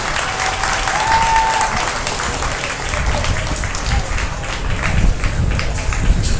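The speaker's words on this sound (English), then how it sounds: "let's give this young man a nice big round of applause" An audience at a 2023 beef cattle show gives a young heifer exhibitor a sustained round of applause, dense and steady, with voices faintly underneath.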